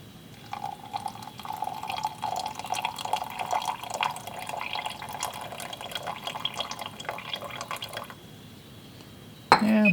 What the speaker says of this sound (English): Now let's add our water to get it up to a total of 100.